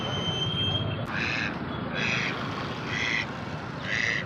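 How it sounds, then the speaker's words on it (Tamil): Ducks at a duck market in Assam give repeated nasal quacks, four or five short, evenly spaced calls standing out over a steady crowded market murmur. "பார்த்தீங்களா, வாத்து மார்க்கெட்."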